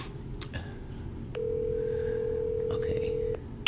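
A steady telephone tone sounds for about two seconds during a call, preceded and followed by short beeps, all over a low background murmur of faint voices.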